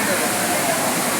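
Water plunging at Courtallam waterfall in Tamil Nadu makes a dense, steady roar, loud and close, with no break in the rush.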